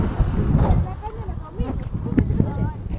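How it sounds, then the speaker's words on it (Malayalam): Gusty wind buffets the microphone beside a pink lake near Adelaide, South Australia, giving a rumbling low roar that rises and falls, with people talking over it. "നല്ല കാറ്റുണ്ട്."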